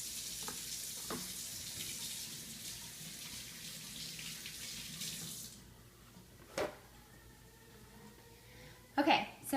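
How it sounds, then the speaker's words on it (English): A kitchen tap runs with a steady broadband water rush while hands are washed beneath it, then shuts off, leaving a few faint clinks and handling sounds near the end. "I'm going to wash my hands real quick."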